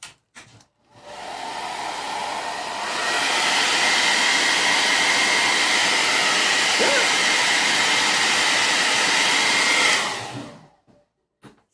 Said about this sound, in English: So I'm gonna hit this with the blow dryer for a hot second.